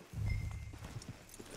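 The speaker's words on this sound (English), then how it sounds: "Hey, get back on your horse." Horse hooves clip-clopping in the video game Red Dead Redemption 2, a steady muffled thudding at close range with faint background ambience, no speech.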